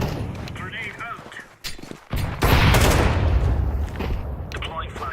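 A grenade going off in a video-game firefight: a heavy, close boom with a long roaring tail, set among gunfire and dense battle noise, with voices talking over the action.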